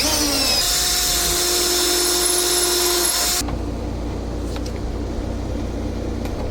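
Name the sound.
power drill driving a screw into pallet wood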